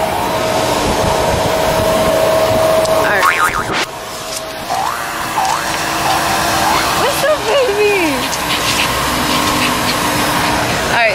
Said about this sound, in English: So I'm gonna vacuum my car